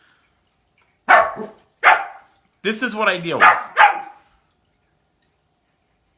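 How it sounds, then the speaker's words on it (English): Dogs barking indoors in a few sharp, close bursts, with a quick run of overlapping barks, and someone speaking briefly over them. "He's teasing the other dogs."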